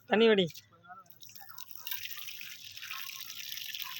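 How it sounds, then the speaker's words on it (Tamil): A short voice, then a soft, uneven spill of water draining from rice and dripping, growing into a steady wash. "தண்ணி வடி"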